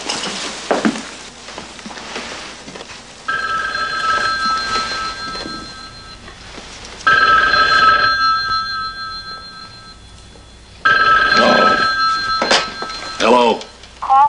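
A telephone rings in several long, shrill bursts separated by short gaps, fairly loud and close, with voices and bustling room noise between and around the rings.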